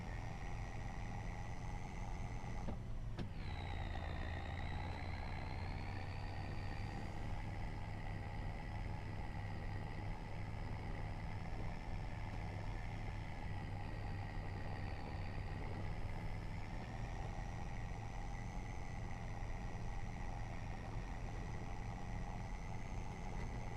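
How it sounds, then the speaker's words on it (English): Steady truck engine in Farming Simulator 25, a continuous low rumble with a droning whine that dips briefly near the start, then runs evenly and loud throughout with no talk. "This truck does sound good."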